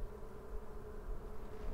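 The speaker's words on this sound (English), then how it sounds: "And now we have to get the rest of the bees off of this frame." Honey bees buzzing around a hive frame, a faint, continuous droning hum with no other sounds.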